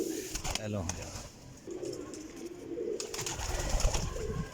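Pigeons kept by a fancier coo steadily in the background. Someone speaks over the birds throughout, and their soft low calls continue under his voice.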